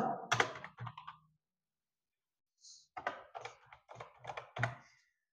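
Typing on a computer keyboard while entering text into an Excel formula, two short bursts of close, quick key clicks separated by a pause.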